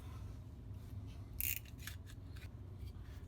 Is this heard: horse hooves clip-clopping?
no